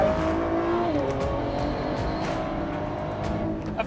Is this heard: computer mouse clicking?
no